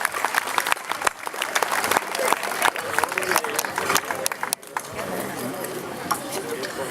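Outdoor crowd applause for folk dancers of the Colla del Cànter at Parc de les Bassetes, brisk uneven clapping mixed with chatter and a few voices, tailing off into a looser, quieter patter near the end.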